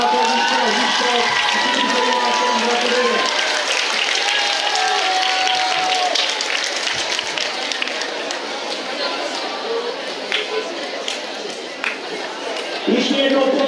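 A crowd applauds at a children's marathon award ceremony, a dense, sustained clapping wash with background chatter that thins slightly before swelling again at the end.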